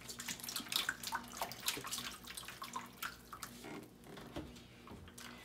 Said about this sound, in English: and then I'll pour some more water in there